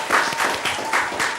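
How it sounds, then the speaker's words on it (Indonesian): Studio audience applauding on an Indonesian talk show, a steady wash of clapping at moderate level with rhythmic surges, no voices over it. "tepuk tangan lu dong."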